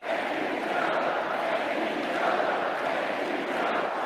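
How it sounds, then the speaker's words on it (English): Convention crowd at the DNC chanting for Joe Biden, a dense, loud, sustained wall of voices from a large audience, steady and continuous throughout. "The crowd chanting,"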